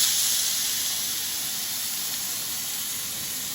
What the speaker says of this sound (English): Now, I'm just cooking out some of that fat, okay? Just on the side.